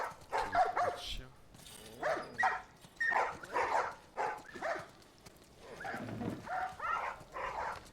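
Dog barking in The Last of Us Part 1, a series of short barks and whimpers close by, mixed with game sounds.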